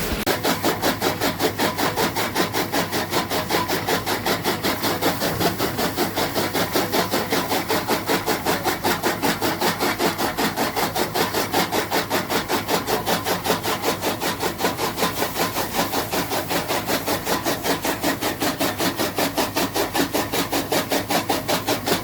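A motor-driven fodder chopper cuts green fodder in a rural farmyard, its steady, dense mechanical whirring and grinding running continuously and loud the whole time with no pauses.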